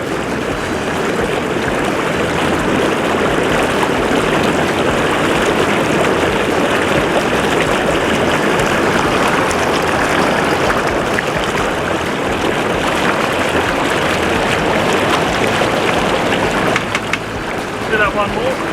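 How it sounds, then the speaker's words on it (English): Lay-Z-Spa inflatable hot tub with its bubble jets running, a steady dense rushing and gurgling of air through water that holds constant throughout, with a voice talking over it. "Now the next section is to turn on the bubbles again"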